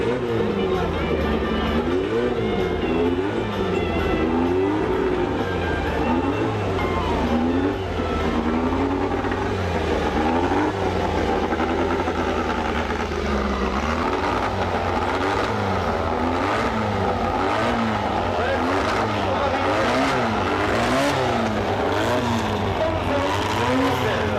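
A 125 cc dragster engine driven by an 11-year-old revs hard at full throttle, a loud continuous buzzing drone with repeated wavering pitch sweeps, a voice talking over it.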